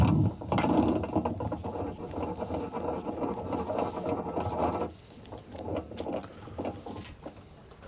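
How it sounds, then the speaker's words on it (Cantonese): An electric anchor winch on a small owner-fitted boat pays out its chain as the anchor is lowered, making a loud, continuous mechanical rattle and ratcheting clatter that drops to a quieter, steadier grind partway through. "而家放咗個撈落去先"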